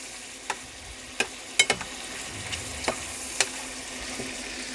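Tiger prawns sizzle gently in garlic butter in a pan, a soft steady hiss broken by several sharp pops and clicks.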